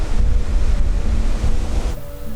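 Ocean waves wash steadily onto a Bay of Plenty beach in New Zealand, a loud, continuous roar of surf with wind buffeting the microphone.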